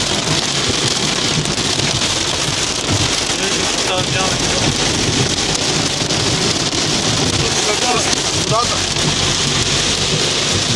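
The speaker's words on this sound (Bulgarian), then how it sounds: "Бах ти бурята!" Heavy thunderstorm with steady loud rain drumming on a surface and rumbles of thunder, recorded from inside a vehicle as agitated voices talk over the constant downpour.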